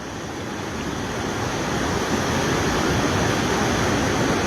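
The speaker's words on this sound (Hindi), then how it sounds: "ये पूरा पानी बनास नदी में बह रहा है।" Floodwater near Sawai Madhopur pours into the Banas river, making a loud, continuous broadband rush of turbulent water with no pauses and no voices.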